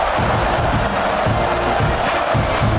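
Stadium crowd in a college football video game, #3 Texas A&M vs South Carolina, a steady dense roar of cheering with rhythmic swells of chanting, loud and continuous with no talk over it.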